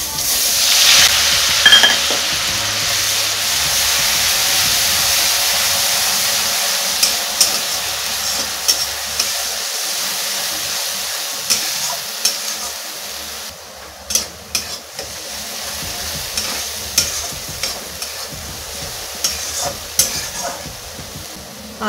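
Onion and green chili paste dropped into hot fish-frying oil spiced with cloves, cardamom and cinnamon: a loud initial hiss that settles into steady sizzling, then repeated close spoon scrapes as it is stirred.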